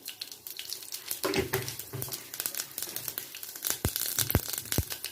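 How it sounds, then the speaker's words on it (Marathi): Mustard seeds crackle in hot oil in a kadhai with soft, scattered pops and crinkly spitting, then a few sharper louder cracks near the end, all fairly quiet and close. "मोहरी तडतडली आहे मोहरी"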